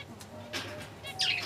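Caged finches give a few brief, faint, high chirps, with a brighter burst of twittering near the end over a quiet background.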